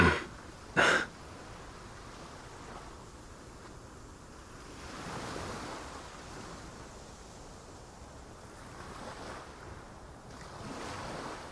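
Ocean waves in the video game Love and Deepspace, a sailboat gliding over the water as surf washes in slow swells with wind rushing past, opening with two sharp knocks before the steady wash.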